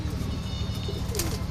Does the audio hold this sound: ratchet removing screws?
no